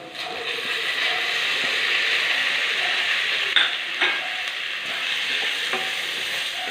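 Beef frying with coconut, onion and ginger, a loud continuous sizzle with a couple of stirring scrapes partway through, no voices.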